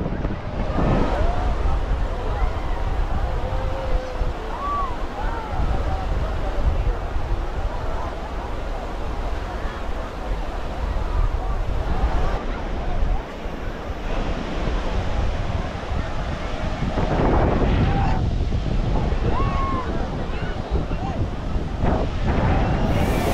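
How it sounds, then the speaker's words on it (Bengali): Small sea waves wash steadily at Digha beach on the Bay of Bengal, a continuous broadband surf wash with wind buffeting the microphone throughout and occasional voices nearby. "ও ছোট ছোট ঢেউ, এখন বেশ ভালো লাগছে।"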